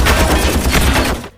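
Rapid heavy gunfire in a movie action scene, bullets striking the Iron Man armor in a loud, dense burst of overlapping shots that cuts off abruptly at the end.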